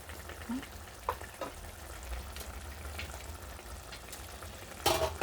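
Laing na gabi with ginger and garlic being stirred in a pan, giving a soft continuous sizzle with a few scraping stirs and a louder clatter near the end, heard without talk.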